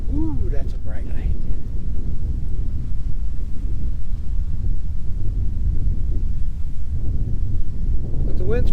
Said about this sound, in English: But the wind's picked up a little bit